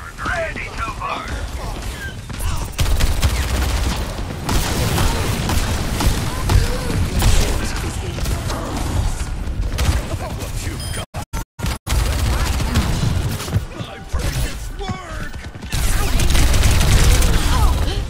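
Torbjörn's gunfire in Overwatch 2 cracks and booms in dense, continuous bursts among loud battle noise, with voices speaking over the action.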